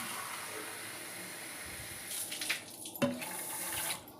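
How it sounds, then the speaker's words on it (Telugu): Rice being washed in water, with steady running water from a tap into a sink and a few splashes and clinks of grains and a vessel being handled, close and moderately loud. "ముందుగా రైస్ తీసుకొని వాటిని వాష్ చేసుకుందాం"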